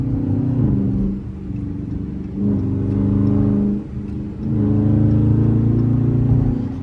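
Dodge Charger R/T engine revving hard in repeated surges on a highway, deep throaty roar rising and falling in three long pulls, loud and close from inside the car.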